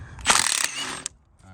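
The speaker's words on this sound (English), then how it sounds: "So we'll just go ahead and grab our impact for this one." Air impact wrench spinning a nut during an Audi 2.0T turbo engine repair, a single loud rattling burst of about a second that cuts off sharply, followed by a quiet workshop.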